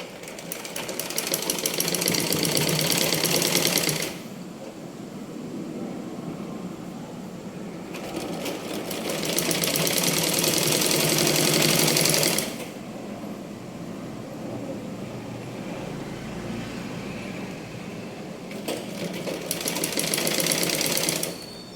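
A sewing machine stitches a 36-inch blouse front panel in three long loud bursts of rapid mechanical running, each lasting several seconds, separated by quieter pauses, with no talking.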